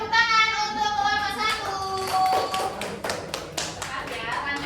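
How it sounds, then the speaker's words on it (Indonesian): A classroom group receives applause, a burst of clapping from students that starts after spoken voices and builds into scattered claps over the second half, with children's voices mixed in. "tepuk tangan untuk kelompok"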